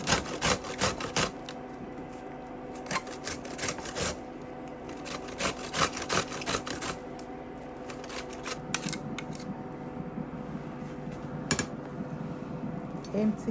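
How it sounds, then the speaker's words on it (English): A green pepper is shredded on a hand grater for vegetable spaghetti, giving close, repeated rasping strokes with sharp clicks and knocks throughout, while a voice occasionally speaks over the scraping. "shred your green pepper with a grater and make sure it's well shredded"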